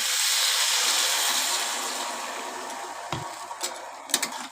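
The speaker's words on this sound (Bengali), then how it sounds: "এঁচোড়ার আলুটা এবার আমি জল দিয়ে দিচ্ছি এদিকটার মধ্যে" Water poured into a hot pan of fried jackfruit and potato hisses loudly at first, then the sizzle gradually fades, with a few light clinks near the end.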